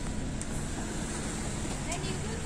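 Strong wind buffets the microphone over rough sea during heavy-weather testing of a boat with a new carbon beam, a constant loud roar of gusts and surf with no clear breaks.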